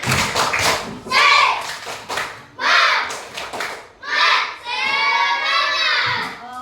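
Schoolchildren in an Indonesian classroom chant in bursts and clap in rhythm, their voices rising into a shouted cheer at the end.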